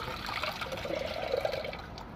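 Water being poured into a cooking pot while making pasta at home, a faint, steady trickling stream heard alone for about two seconds.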